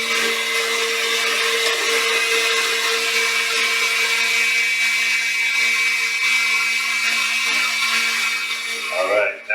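A mixer whirs steadily and loudly while beating homemade mayonnaise as it thickens, a continuous high buzzing drone that runs nearly unbroken before cutting off at the very end.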